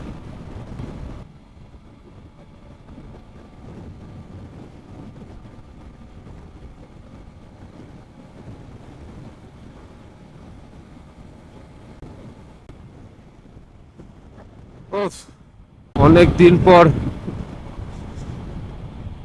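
Motorcycle ridden fast over a flyover, a steady broadband wind roar buffeting the microphone for most of the ride, then louder bursts near the end as a voice speaks briefly.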